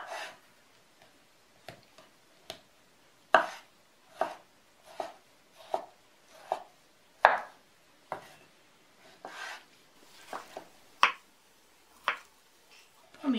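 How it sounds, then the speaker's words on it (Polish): Knife dicing a peeled tomato on a board for Hungarian goulash soup, a series of distinct crisp chops at irregular intervals, close and fairly quiet, with no talk. "Obranego pomidora pokroję na kostkę."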